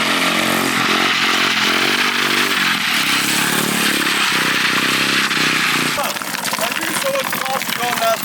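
A drift trike built as half ATV, half dirt bike runs its engine loudly and steadily for the whole stretch, the roar shifting and turning rougher toward the end, with people talking over it.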